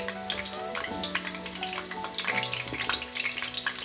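Rosemary sizzles in hot oil for a Ghanaian waakye stew, a busy crackling fry with sustained tonal hums running underneath, close and moderately loud throughout.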